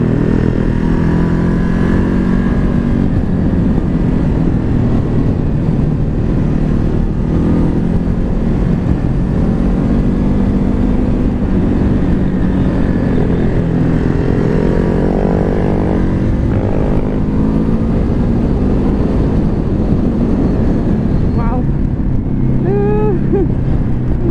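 A Ducati Hypermotard SP motorcycle is ridden on the road, its engine droning loudly and steadily under heavy wind rush, with the pitch shifting as it accelerates.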